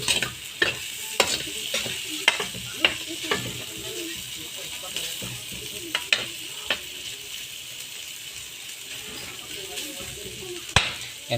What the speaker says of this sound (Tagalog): pakatasin lang natin mga kababayan itong taba at saka kamatis